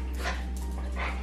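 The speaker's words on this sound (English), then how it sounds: "Sorry for the dogs playing in the background." Dogs playing indoors give a couple of short barks and yips over a steady low background hum, moderately close and with no talk.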